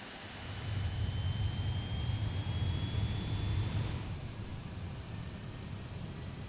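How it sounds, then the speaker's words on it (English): Private jet engine spooling up during start in Microsoft Flight Simulator, a faint steady roar with a thin rising whine that fades after a few seconds, no voices. "we should start hearing some lovely engine noises now"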